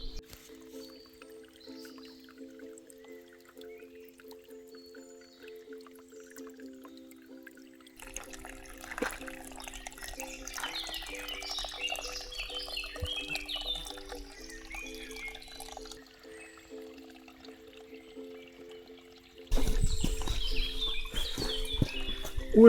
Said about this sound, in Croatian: krećemo se kroz potok, hladan, pa možemo se osvježiti tako